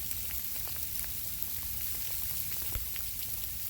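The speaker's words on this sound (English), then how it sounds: "It's raining ice. That ain't no damn snow." Freezing rain patters densely on surfaces during a winter ice storm in Memphis, with scattered sharper ticks of ice pellets, continuous and close throughout.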